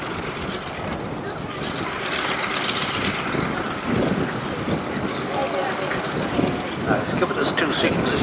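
Propeller-driven aerobatic training aircraft during a display flight at Biggin Hill, a steady broad engine and airframe roar that swells and fades slightly over several seconds, with a voice talking over it.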